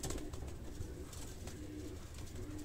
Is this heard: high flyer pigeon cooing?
yes